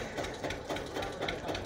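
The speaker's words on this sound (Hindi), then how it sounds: "इस ट्रैक्टर को दोबारा से स्टार्ट किया।" A tractor engine restarted in a village after a tyre puncture runs with a steady, rhythmic chugging, pulsing roughly twice a second at moderate loudness, with no talking.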